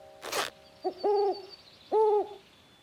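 An owl in a French children's cartoon hoots twice, clear two-tone calls that rise and fall, after a brief rustle at the start, with no talk over them.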